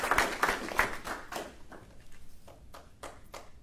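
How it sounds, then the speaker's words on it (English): Audience at a military promotion ceremony applauding, a brief round of clapping that starts fairly strong and thins out to scattered claps, somewhat distant in a hall. "And so have a round of applause for them."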